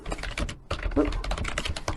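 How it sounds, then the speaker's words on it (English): Rapid typing on a computer keyboard while planning a trip, with dense close key clicks in quick bursts and a brief pause partway through. "Very sorry if my typing is very loud."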